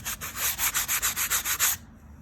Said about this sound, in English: Now you can really start to see where you need to sand.